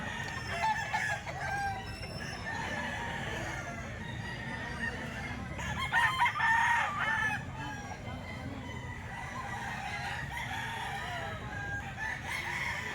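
Gamefowl roosters at a gamefowl farm crow loudly and close, with a strong burst of crowing midway and clucking throughout, while voices murmur in the background.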